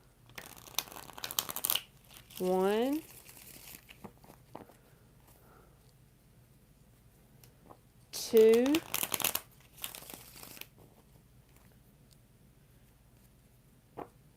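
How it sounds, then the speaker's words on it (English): Tarot cards shuffled by hand in two short bursts, a riffling, papery flutter of about a second each, separated by quiet stretches, with a voice counting between them. "We're going to get 4 shuffles."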